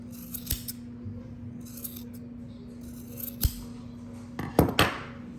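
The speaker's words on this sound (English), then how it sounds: "we're gonna trim it up" Scissors snip string to trim a homemade Christmas hat, a few crisp separate cuts with a quick double snip near the end, close up over a low steady hum.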